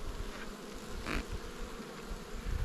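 Honey bees hum steadily around an open hive, the top box and centre frames exposed during a spring inspection, a close, continuous buzz with a few louder passes of single bees.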